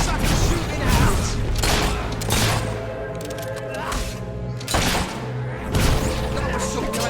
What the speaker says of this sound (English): That was some kind of fire spell.